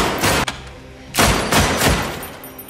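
Gunfire at shooting practice: several sharp, loud shots in irregular succession, with an early burst followed by two or three more reports, close and without speech.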